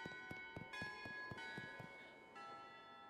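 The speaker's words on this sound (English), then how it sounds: "Yes, get away from the bells." Several bells ring from a cathedral in the video game Shadows Over Loathing. The strikes are repeated and fairly quiet, with long sustained tones that overlap each other.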